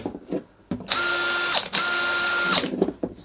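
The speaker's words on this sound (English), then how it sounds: "Let's try an old DeWalt now. This is a DCF894 impact wrench." A DeWalt DCF894 cordless impact wrench runs in two bursts of about a second each, a loud close rattling hammer with a steady motor whine, separated by short pauses and quieter handling clicks.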